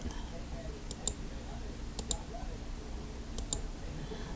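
A computer mouse gives sharp, quick double clicks in three pairs spaced about a second apart, faint against a quiet room hum while someone speaks.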